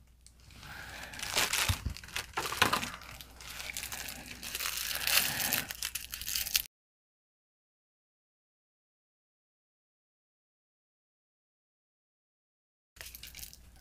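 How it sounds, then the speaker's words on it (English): Plastic HDPE grocery bags are bunched, twisted and cut into small pieces, giving close, busy crinkling and crackling that runs for several seconds, then cuts to silence before resuming briefly. "These plastic grocery bags, just kind of bunch them up, twist them up, and then cut them into small, small pieces"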